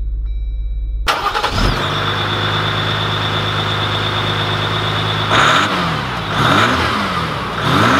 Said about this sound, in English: let's take this Eco-Diesel Rubicon out,